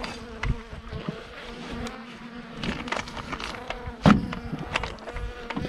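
A steady insect buzz of honeybees, close and continuous, with a few louder passes as individual bees fly near.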